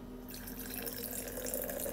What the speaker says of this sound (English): just fill the rest up with water.